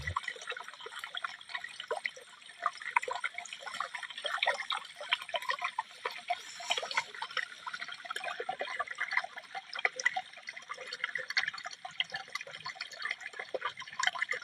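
Water splashing and trickling at a small waterfall on a mountain stream, a steady close wash of drips and spatters that continues without break and with no voices.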